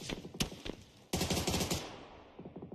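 Video game gunfire in an online shooter match: a few scattered shots, then a dense rapid automatic burst that fades away, with more faint shots near the end, all fairly quiet.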